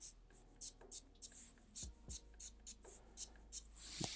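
Pen strokes scratch across paper in short, regular bursts while hatching lines go into a manga drawing, close and quiet with a soft rubbing texture between strokes.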